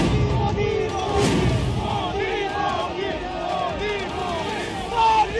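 A large crowd gathered for Modi's nomination event in Varanasi roars and chants continuously, a dense wall of shouting voices with rising calls and whistle-like cries throughout.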